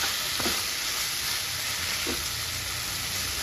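Minced keema being mixed and fried in a pan with coriander, giving a steady continuous sizzle with a couple of faint stirring scrapes, close and alone without talk.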